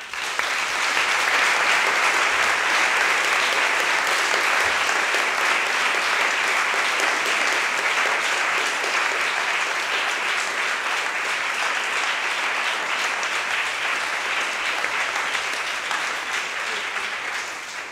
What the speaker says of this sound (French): je vous demande d'applaudir Peter Singer